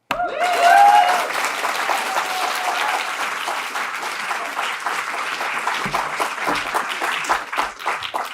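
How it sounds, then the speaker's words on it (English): A gala crowd gives poets a long round of applause: a sudden burst of dense, loud clapping with a few cheers at the start, then a steady ovation that slowly thins toward the end. "Can you give a huge, heartfelt round of applause for the poets who are frontline responding to the world right now?"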